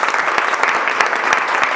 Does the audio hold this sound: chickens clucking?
no